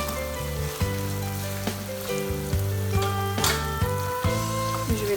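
Meat sizzling in a hot pan, a steady close crackle of frying with occasional sharper pops and stirring clatter.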